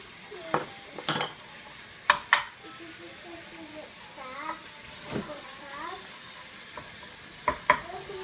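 Ground meat for spaghetti sizzles in a frying pan while a spoon scrapes and stirs in sharp repeated clacks, with a small child babbling and an adult talking over the cooking.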